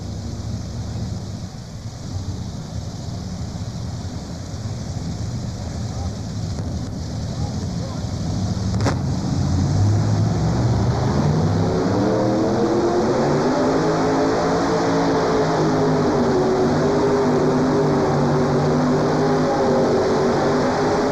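A pulling tractor roars down the track during a tractor pull run at the 1992 National Farm Machinery Show, engine noise swelling loud around the middle and holding a sustained, rising roar to the end.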